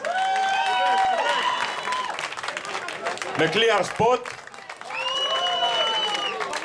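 A rock festival crowd applauding and cheering for a band, a busy mix of clapping and shouts heard under an announcer's amplified voice, with a short louder burst of crowd noise midway.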